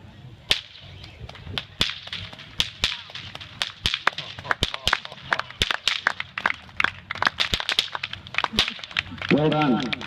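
Short stockwhips crack at the Walgett Show, a fast, loud volley of sharp snaps in quick irregular rhythm near the microphone, with faint crowd noise and a brief voice near the end.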